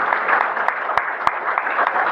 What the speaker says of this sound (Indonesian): Tepuk tangan semua dulu.